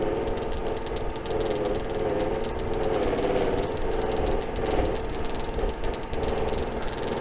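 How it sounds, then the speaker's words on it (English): A Beall buffing wheel spinning steadily as a piece is polished against it, giving a continuous loud motor-like whir with faint shifts in pitch as pressure changes, with no voices. "Gotta make sure I get all the surfaces buffed and the center."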